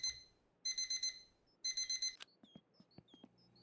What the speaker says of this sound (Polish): Budzik trzeba włączyć.